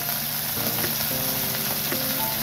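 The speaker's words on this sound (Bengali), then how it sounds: "ছোট মাছ তো অল্প অল্প করে ভেজে নেব" Small puti fish frying in a little oil in a pan, a steady close crackling sizzle with occasional soft pops and light stirring touches, continuous and without voices.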